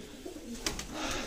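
Jacobin fancy pigeons in a loft give soft, low coos, a couple of brief calls close by against quiet background noise.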